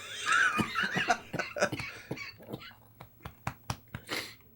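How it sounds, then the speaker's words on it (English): Wet, phlegmy coughing as mucus comes up, a cluster of rough bursts followed by several sharper single hacks and throat-clearing, close and fairly loud with no talk over it. "coughed up a little bit of mucus"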